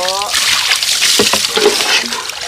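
Water splashes and sloshes as boys bathe at an outdoor spot among an indigenous family's mountain home, bursts of splashing continuous under nearby talk.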